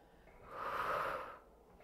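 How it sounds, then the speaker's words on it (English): During a Pilates reformer jumping exercise, one heavy breathy exhale swells and fades over about a second, close and fairly soft. "Big exhales as you jump."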